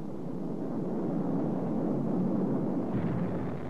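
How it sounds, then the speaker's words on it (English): A violent steam-driven volcanic eruption in Hawaii in 1960, heard as a steady, dense low roar with rumbling turbulence throughout, swelling slightly near the end, with no voices. "the result can be a violent, steam-driven eruption, such as this one in 1960"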